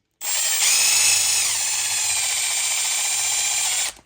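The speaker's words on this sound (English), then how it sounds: "I just recommend using a drill." A power drill runs close and loud for about four seconds, seating a part on a Baja 5B RC car, with a high steady whine that dips slightly in pitch once the part seats, then stops abruptly.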